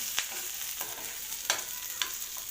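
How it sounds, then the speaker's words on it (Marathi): Masala frying crisp in hot oil for a chickpea curry, a soft continuous sizzle with a few light spoon scrapes and clicks, close and fairly quiet with no talk. "मस्तपैकी खरपूस तळायचं आहे छानपैकी खरपूस तळायचं आहे"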